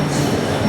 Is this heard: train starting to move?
yes